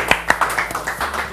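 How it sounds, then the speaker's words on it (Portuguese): A small studio audience gives a short round of applause for two guests at the start of a Festival MED interview: a handful of distinct, fairly close hand claps in quick succession, tapering quickly. "Uma salva de palmas para eles."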